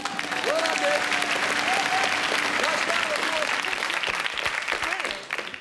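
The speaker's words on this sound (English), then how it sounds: "A nice round of applause." Studio audience on a British TV comedy panel show gives a lively round of applause, dense clapping with a cheer rising above it, then tapering off into a few scattered claps at the end.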